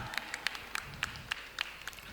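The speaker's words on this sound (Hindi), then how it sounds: "एक बार जोरदार तालियों के साथ।" A small crowd claps in a sharp, rhythmic pattern at a Jain temple chariot procession and silver jubilee festival in Pallavpuram, Meerut, with the individual claps spaced fairly evenly.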